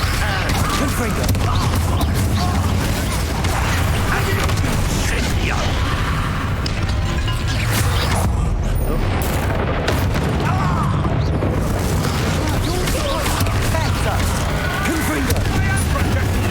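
The Confringo blasting spell explodes in the video game Hogwarts Legacy: loud booming blasts thud through dense, continuous combat noise, with voices speaking over the action.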